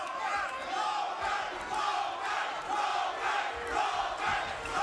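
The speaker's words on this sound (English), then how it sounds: "Hear the local crowd chanting Lopez, Lopez here in Rancho Mirage." A local boxing crowd in Rancho Mirage chants a fighter's name during a Lopez vs Martinez bout, a steady, loud rhythmic roar of many voices that swells in waves throughout.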